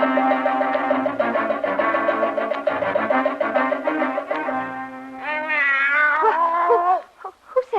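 The Cheshire Cat meows in a radio play: a loud, drawn-out, wavering cat cry treated with effects, followed by a shorter rising meow near the end.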